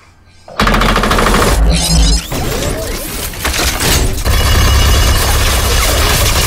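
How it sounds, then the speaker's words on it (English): A mini machine gun firing in the Overwatch animated short "The Last Bastion," a loud sustained stream of rapid shots with crashing and shattering debris as the forest is levelled, dense and continuous. "you just like leveled the forest with a mini machine gun"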